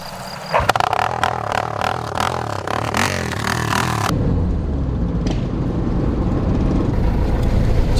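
Motor vehicle-like engine rumble with revving and harmonic sweeps for about four seconds, then a steadier running drone with broadband noise, from an XR motorcycle engine idling and running after a push start down a steep hill.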